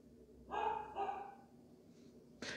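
Two dogs barking in short bursts nearby, a pair of loud barks followed by a brief sharper yelp at the end, with no talk over them.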